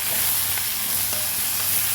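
Tomatoes and spinach frying in a pan alongside onions and green chillies, a steady close hissing sizzle with faint stirring, no voices.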